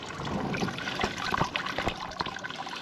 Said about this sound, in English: That's the sewer, and that's the water going down the sewer.